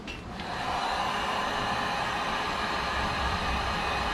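Heat gun blowing hot air while prying off a Ram truck lens for vinyl wrap, a steady broadband rushing hiss that starts up in the first half second and holds constant.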